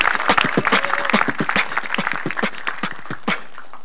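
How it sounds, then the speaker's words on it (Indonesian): A stand-up comedy TV studio audience claps after a beatbox routine, a close, loud burst of many hands that starts dense and gradually thins and tapers off. "Boleh minta tepuk tangannya?"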